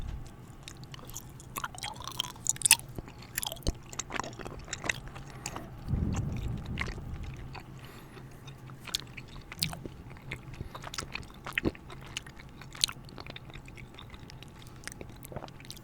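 Chewy heart-shaped candy being bitten and chewed up close, with wet, squishy mastication sounds repeating irregularly throughout and a brief louder bite burst midway, no talking.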